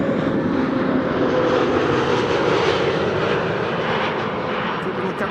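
A TAP Portugal Airbus A321neo jet arriving from Lisbon at Amsterdam Schiphol on a frosty day gives a steady, moderately distant engine roar that holds evenly throughout and eases slightly near the end.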